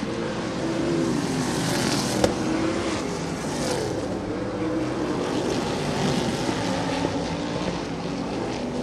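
Sprint race cars roar around a track during a H.O.S.S. Sprints race. Engine noise is loud and continuous, a dense broadband drone with no clear breaks.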